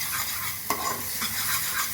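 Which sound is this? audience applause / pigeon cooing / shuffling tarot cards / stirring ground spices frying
stirring ground spices frying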